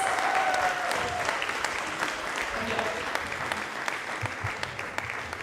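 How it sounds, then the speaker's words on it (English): Audience applause at the IYMS 2022 closing ceremony, a steady wash of many hands clapping that fills the room, with some voices mixed in beneath it throughout. "Give them a big round of applause and get ready for your certificates!"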